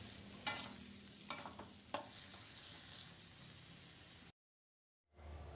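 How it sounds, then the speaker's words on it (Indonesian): Broccoli stir-fry with oyster sauce and sweet soy sauce sizzling in a pan while being stirred, a steady hiss with a few sharp scrapes early on, then a sudden brief cut to silence before the sizzle returns. "kemudian saya aduk-aduk semuanya agar tercampur merata dulu"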